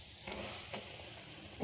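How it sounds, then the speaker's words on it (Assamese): Gram flour (besan) frying in ghee over a low flame, a soft steady hiss with faint sizzling and a couple of brief stirring scrapes, close and quiet throughout. "এতিয়া এই ঘিউখিনিতে মই অকণমান বেচন ভাজিম"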